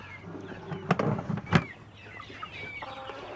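Free-range hens clucking close by at feeding time, a few sharp loud clucks and squawks over quieter murmuring from the flock.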